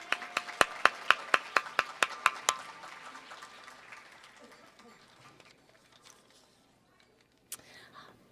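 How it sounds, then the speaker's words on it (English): Applause at a library foundation gala, starting with a burst of loud, sharp individual claps close by that thin out and fade into scattered faint clapping and quiet room murmur. "Let's give her a big round of applause."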